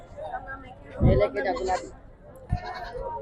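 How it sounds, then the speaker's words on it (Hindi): A goat bleating at a livestock market, with a couple of short bleats rising close by over steady crowd chatter and people talking. "माशाल्लाह खूबसूरत बकरा है"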